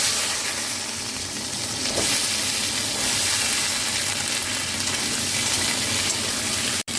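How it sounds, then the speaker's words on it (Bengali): Chopped vegetables fry in hot oil in a home kitchen pan, giving a loud, continuous, even sizzle with a brief stir midway and a sudden cut near the end. "এই আনাজটা আমি হালকা করে ভেজে নিতে,"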